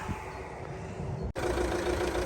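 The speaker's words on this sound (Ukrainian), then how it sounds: "Зараз заведу мотор, покажу вам підкапотний простір." A Fiat Freemont 2.0 diesel engine runs at a steady idle, a continuous low rumble close by with a brief dropout partway through, no talking.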